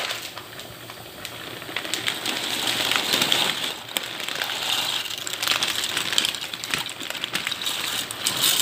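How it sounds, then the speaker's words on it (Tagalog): Water boiling hard in a pot on the stove, ready for macaroni, making a steady dense bubbling hiss with scattered pops throughout, fairly close and continuous with no talk. "Kumukulo na po yung tubig."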